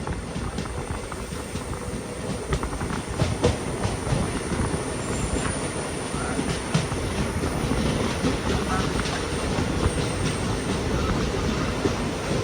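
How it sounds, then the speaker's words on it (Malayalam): The Mangaluru Express arrives at Koyilandy railway station, rumbling continuously with rattling wheels and faint squeals, loud and close, holding steady throughout. "കൊയിലാണ്ടി റെയിൽവേ സ്റ്റേഷനിലേക്ക് ഇതാ നമ്മുടെ ട്രെയിൻ എത്തിക്കൊണ്ടിരിക്കുകയാണ്."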